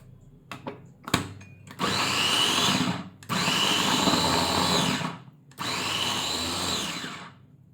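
An electric capsule cutter chops food in three loud whirring bursts of a couple of seconds each, separated by short pauses, with a few clicks and knocks before the first run.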